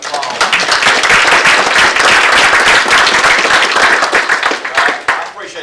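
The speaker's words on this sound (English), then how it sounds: "Let's give them a round of applause." A crowd at a Georgia workforce housing event breaks into loud, dense clapping that holds steady for several seconds before tapering off near the end.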